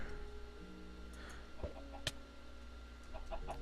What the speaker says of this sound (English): Chickens are plentiful.